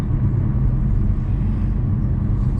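A car engine fitted with an idle chop mod rumbles low and steady up close while driving through its gears; no distinct shift points stand out.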